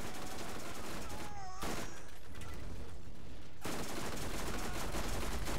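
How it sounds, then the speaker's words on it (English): Sustained SMG fire in Borderlands, a dense, continuous rattle of rapid shots that briefly drops out mid-burst, then resumes just as loud and steady to the end. "let's finish all this off with the SMG"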